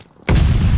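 A stun grenade goes off in the video game Vanguard, an abrupt loud boom after a brief quiet moment, followed by a dense ringing blast that fills the rest of the short moment.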